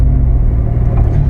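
A 1987 Ford Capri engine drones steadily while driving, a close, loud low rumble with an even tone throughout.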